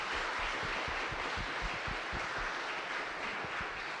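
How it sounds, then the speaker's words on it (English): Applause from a church audience at a returning-citizens roundtable at Twelfth Baptist Church: a steady, fairly quiet wash of many hands clapping that holds evenly throughout without voices on top. "Can we give him a big round of applause for that?"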